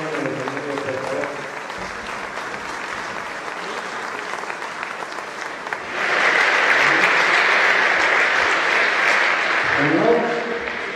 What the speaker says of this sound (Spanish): Un aplauso también para Luis y Miguel Ramos que suban al escenario